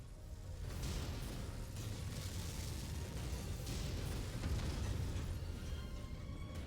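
Explosions rumble on and off in a combat video game for several seconds, with booms and bursts that blur into a dense, continuous noise and no talking.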